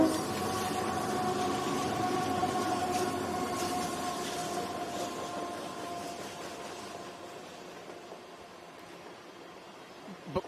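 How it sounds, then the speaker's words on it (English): A long freight train rolls past, a sustained loud rumble and rattle of rail cars with a steady metallic hum that slowly fades toward the end. "It's probably a 100-car train,"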